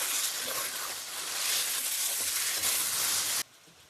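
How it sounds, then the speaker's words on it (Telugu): Marinated chicken sizzles loudly in a pan of golden fried onions, a dense steady hiss lasting about three and a half seconds before dropping abruptly to a quieter simmer. "మ్యారినేట్ చేసుకుని చికెన్ వేసుకుందాం."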